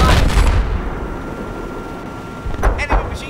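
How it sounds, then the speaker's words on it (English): Machine gun fire and explosions in the video game Battlefield 4 come as a dense, loud rumble of gunfire, with a few sharper bursts near the end. "Enemy machine gun."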